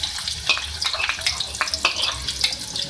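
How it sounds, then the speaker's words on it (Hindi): Medium-sized onion sizzling in hot oil in a cooking pot, a steady bright crackle with scattered pops and occasional stirring scrapes throughout. "अब इसी ऑयल में मैं एक मीडियम साइज की प्याज ऐड कर रही हूँ।"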